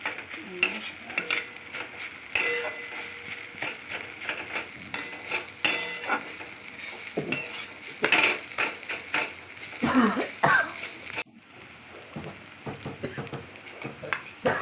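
A spoon scrapes and knocks against a pan while grated carrot mixture for carrot barfi is stirred over low heat, irregular close clatters with a faint sizzle underneath.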